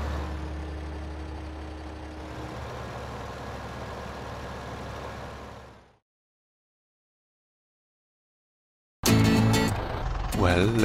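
A Hürlimann tractor idles in Farming Simulator 15 with a steady, low engine drone that holds for about six seconds. It fades into silence, and a brief loud burst of other sound follows.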